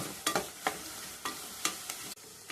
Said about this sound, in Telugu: ఉల్లిపాయలు, పచ్చిమిరపకాయ, కరివేపాకు వేగుతుంది.